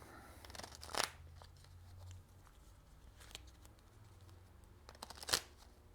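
Tarot cards riffle and shuffle in quick papery bursts, with two louder snaps standing out, close and fairly quiet, with no talking.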